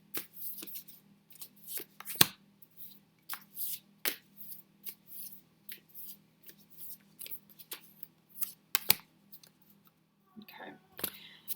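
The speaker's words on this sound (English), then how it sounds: "I will go ahead and draw the 3 cards" Oracle cards are shuffled and drawn up close, with many quick papery flicks and crisp snaps coming in irregular bursts. A low hum runs under them, and a soft voice talks at times.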